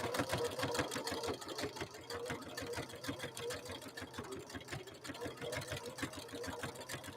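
Husqvarna Viking embroidery sewing machine stitching at speed, a loud rapid rhythmic needle clatter running continuously throughout.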